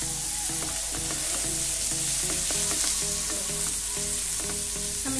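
Ginger, garlic and green chili paste sautéing in a hot pan for bread pakora filling, a loud, continuous sizzle under a steady, repeating rhythmic pattern throughout, with no talking.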